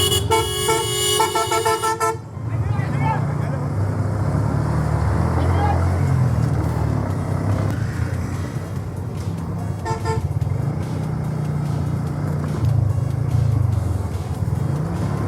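Car horns toot in rapid repeated bursts at first, then a steady rumble of engines and traffic noise fills a jammed road, with another horn around the tenth second and people talking beneath.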